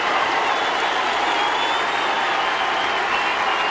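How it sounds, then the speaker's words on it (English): Stadium crowd at a high school football game reacting as the De La Salle team comes out of the tunnel, a steady broad wash of boos mixed with scattered applause, distant and continuous. "Some boos and now the smattering of applause"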